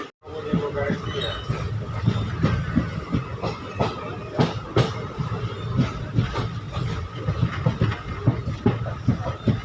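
The Katihar Howrah Express runs on, heard from inside a sleeper coach: a steady rumble with rhythmic clickety-clack wheel beats over the rail joints, close and continuous, with some voices in the background.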